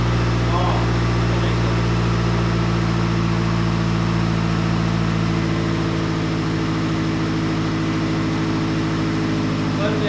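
A Mazdaspeed 3 fitted with an Injen cold air intake idles steadily in a continuous, fairly loud drone with no clear rev rise, while a person talks over it.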